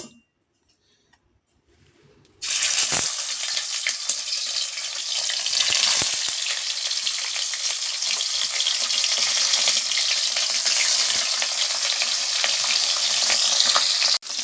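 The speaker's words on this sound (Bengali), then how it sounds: "দেখো কড়াইতে তেল দিয়ে দিয়েছি তেলটা গরম হয়ে গেছে এবার ডিমগুলো হালকা করে ভেজে নেব" Eggs hit hot oil in a wok and set off a sudden, loud, crackling sizzle after a near-silent start, then keep frying in a dense, steady spatter with a few light clinks.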